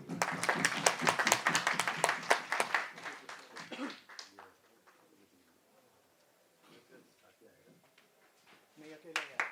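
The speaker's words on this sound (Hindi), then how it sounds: "एक बार तालियां" Audience clapping at a city award ceremony in Meerut, a dense burst of hand claps in the first four seconds, fading to quieter scattered claps and room noise, then a short renewed burst at the end.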